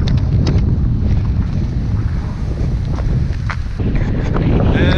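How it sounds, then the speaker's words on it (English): Strong wind buffets the microphone in a steady roar on a snowy mountain at Snowshoe during a snowboard camping trip, with gusty rumble throughout and brief louder bursts. "I can't believe how much windier it is here than it is over at the cabin"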